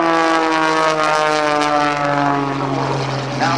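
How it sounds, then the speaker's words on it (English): A Cirrus-sponsored Extra 300 aerobatic airplane flown by Patty Wagstaff at the 2008 NAS Oceana Airshow, its propeller engine droning loud and steady through quick rolls, the pitch sliding slowly downward. "A beautiful blue sky with the Cirrus Extra 300 doing quick rolls the way she likes to do it"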